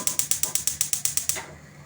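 A rapid series of sharp, evenly spaced clicks, about a dozen in a row, from a gas stove igniter, then stopping into quiet hiss, in a kitchen while pickling bell peppers.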